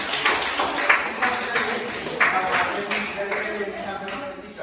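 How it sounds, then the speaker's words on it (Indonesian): Students in a classroom clap for a classmate, a light scattered patter of hand claps with irregular sharper claps, fairly close, while voices murmur faintly underneath. "Tepuk tangan untuk Cika dulu."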